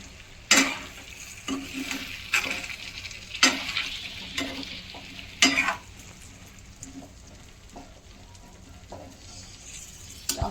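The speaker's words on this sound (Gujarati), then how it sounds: "હલાવી લઉં" Stuffed whole brinjal curry being stirred in a pan: a steady sizzle punctuated by several sharp spatula scrapes in the first half, easing to a quieter, gentler bubbling near the end.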